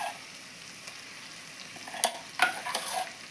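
Tamarind paste goes into a frying capsicum masala curry and is stirred in, a faint low sizzle followed by a few brief scraping stirs near the end.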